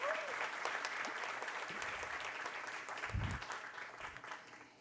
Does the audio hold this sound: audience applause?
yes